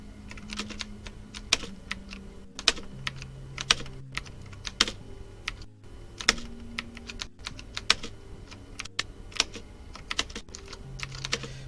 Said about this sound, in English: God, my keyboard is so loud.